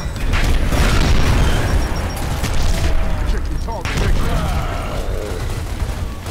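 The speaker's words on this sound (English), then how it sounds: "Fire in the hole! Nades out." Grenade explosion in Gears of War, heavy booming blasts over a constant roar of game combat noise, loud and sustained with a second burst a few seconds later, voices shouting over it.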